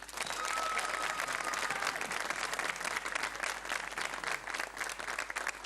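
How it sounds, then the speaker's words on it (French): An audience applauds a named person at a Cameroonian broadcast show with a broad, continuous roar of clapping from many hands, steady and unbroken, with faint crowd murmur beneath. "On l'applaudit, s'il vous plaît."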